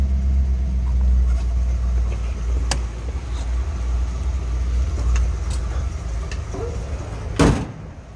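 A 1965 Ford Mustang convertible with a C-code engine idles while warming up, a steady low rumble throughout with a couple of sharp clicks and a brief louder thump near the end.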